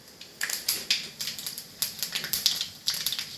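Mustard seeds pop and splutter in hot oil in a home kitchen, a quick irregular run of sharp crackling ticks, close and moderately loud, with no talking.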